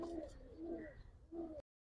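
Giribaz pigeons in a loft give soft, repeated coos, three short rolling calls close by in quick succession before an abrupt cut to silence.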